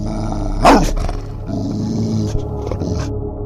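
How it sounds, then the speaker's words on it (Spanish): A dog named Pasa lets out a long, low growl, loud and close, with a sharper burst near the start and a rumbling tail with no talking over it. "Pasa emitió un gruñido prolongado y bajo"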